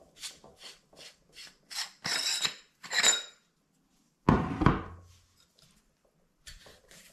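Metal flashlight body being unscrewed by hand, a series of short scraping, rasping twists followed by a louder grinding rub of threads, then quiet with a few faint clicks.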